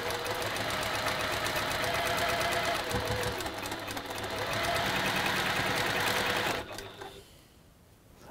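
A sewing machine chain-pieces fabric, running fast and steady with a dense rhythmic needle rattle close by, easing briefly midway before stopping near the end.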